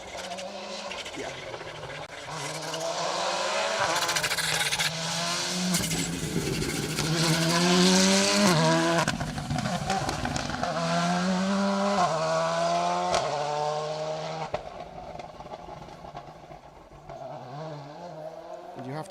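Rally cars on an asphalt stage of Rally Ceredigion roar past one after another, engines revving hard with rising and falling pitch, loud and close before fading, while commentators talk throughout.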